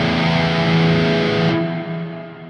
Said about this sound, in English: It's a bit of a cold sounding reverb to me